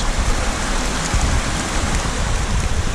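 Steady rain falls beside a creek on a stormy day, a dense, even hiss of drops hitting water and rock with flowing water underneath, close and continuous with no talking.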